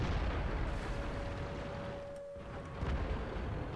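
Artillery fire in the tank battle game World of Tanks comes as heavy, rumbling booms and a dense roar of battle noise, with a short lull before another burst swells back up.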